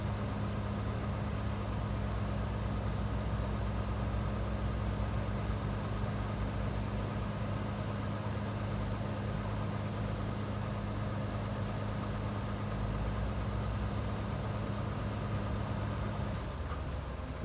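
A heavy tractor working grass silage in a farm clamp drones in a low, steady engine hum, continuous and moderately distant, running almost unchanged until it eases off near the end.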